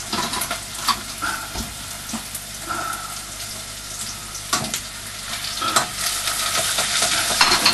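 Onions sizzle in a pan for a beef burger curry, a steady frying hiss broken by spoon scrapes and stirring clatter that grows louder toward the end, with no one speaking.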